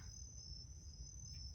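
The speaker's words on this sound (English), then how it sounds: "There's some crickets out there," Crickets chirp outdoors at night near a tent, a faint, continuous high trill over a low background rumble.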